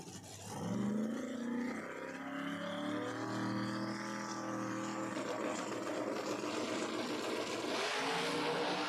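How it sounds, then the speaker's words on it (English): Drag race cars at a no-prep street racing event at Empire Dragway, New York, roar loudly down the strip, a sustained engine howl that rises in pitch as the cars accelerate, with no speech over it. "what a drag race there, but Doc Love gets there first."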